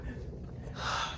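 Hikers walking uphill pant heavily, giving one or two close, breathy gasps in a short burst.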